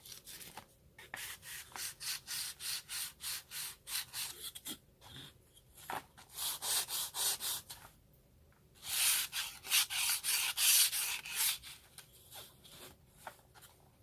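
Sandpaper rubbed back and forth over a small wooden nameplate, a steady run of quick rasping strokes at close range, with brief pauses between bursts and no talking.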